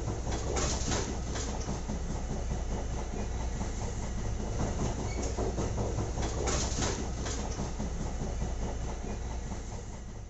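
Aboard a train riding at night, a steady, loud rumble with rhythmic rail clatter runs continuously and unbroken, with no talk.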